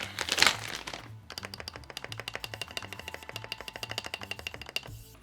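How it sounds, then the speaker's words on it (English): Keycaps being fitted onto a Keychron Q1 HE keyboard: a brief crinkle of packaging, then a rapid run of sharp plastic clicks and snaps as caps are pressed onto the switches, close and steady. "let's apply these new keycaps and let's see how this keyboard will look and sound with these new"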